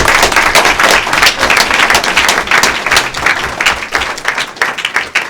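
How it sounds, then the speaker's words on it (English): Audience at a school board recognition meeting claps loudly and steadily, a dense burst of applause that fades slightly toward the end. "Give them a round of applause."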